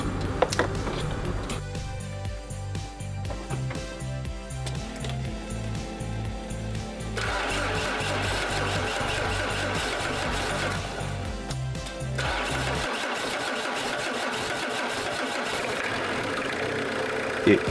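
An abandoned Citroën XM car's engine starts up and idles with a steady, rhythmic low chug that later smooths into a quieter idle.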